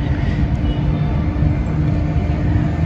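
An LRT1 light-rail train on an elevated railway near the United Nations station in Manila rumbles past with a loud, steady roar of wheels and motors, close by and continuous from start to end.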